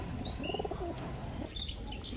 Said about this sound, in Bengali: এখন দেখাবো এক জোড়া ইরানি হুমা কবুতর।